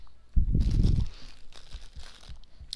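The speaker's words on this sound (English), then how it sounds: "I'm gonna chew crackers into my microphone" Crackers are chewed right against a microphone, one loud burst of crunching up close and then softer scattered crunches and crinkles that fade in and out.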